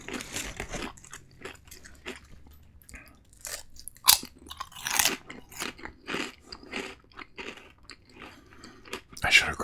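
Fries-like crunchy snacks are bitten and chewed close to the mic, with crisp irregular crunches and crackles and occasional louder bites, with quiet speech mixed in.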